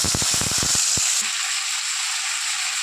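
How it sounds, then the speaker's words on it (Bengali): Tomato pieces go into hot mustard-seeded oil in a pan. A burst of crackling pops comes first, then a loud, steady sizzle settles in and continues with no talking. "এখন টমেটোটা ছেড়ে দিচ্ছি।"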